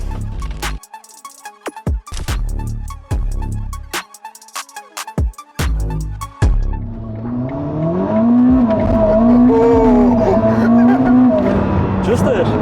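A Ferrari SF90 hybrid sports car roars loudly while being driven through Dubai, its engine note rising and falling steadily after several sharp bursts of mechanical noise.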